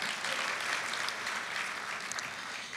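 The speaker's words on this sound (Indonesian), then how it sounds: "Tepuk tangan buat Tuhan kita." Congregation applauds at a Sunday church service, a dense continuous wash of clapping from a large crowd, steady and moderately loud throughout.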